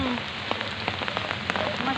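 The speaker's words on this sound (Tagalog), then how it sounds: "Umuulan kasi." Rain patters steadily on a surface nearby, with scattered distinct drop ticks over a continuous hiss.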